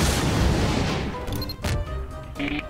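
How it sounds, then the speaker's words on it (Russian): A loud, rumbling bomb blast in Garry's Mod fills the opening second, its roar decaying into scattered crackles and debris clatter, with faint electronic game tones afterward. "Ждите взрыв с крыши."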